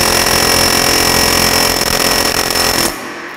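A pneumatic tool hammers steadily and loudly on a Mini Cooper R56 axle during engine removal, a harsh continuous rattle close by that runs for about three seconds and then cuts off abruptly.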